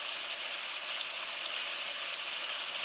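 Heavy rain keeps up a soft, even hiss at low volume, a continuous wash of patter without breaks or voices.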